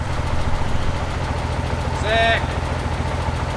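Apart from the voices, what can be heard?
BMW E30 engine running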